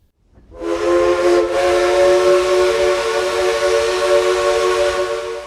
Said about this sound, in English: This is the sound of a 1920s Heisler No. 6 locomotive